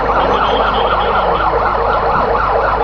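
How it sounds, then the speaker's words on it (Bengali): An ambulance from the Sylhet civil surgeon's office sounds its siren at a fire scene, a loud, steady wailing tone that fills the short stretch without a break. "আমাদের সিভিল সার্জনের দপ্তর থেকেও একটি অ্যাম্বুলেন্স এসে পৌঁছে গেছে"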